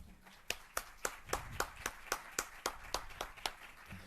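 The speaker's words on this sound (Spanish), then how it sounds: "Un aplauso para ellos." Sparse clapping in a small audience during a talk about podcasting: a handful of distinct, evenly spaced claps in a steady rhythm, fairly faint and close, over a quiet room.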